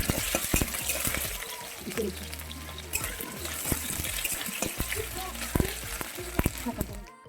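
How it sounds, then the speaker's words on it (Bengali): Cut potatoes frying in hot oil in a wok, a dense continuous sizzle with scattered stirring clicks and scrapes throughout. "এই যে কেটে রাখা আলুগুলো প্রথম হালকা হালকা আমি ভাজা করে নেব"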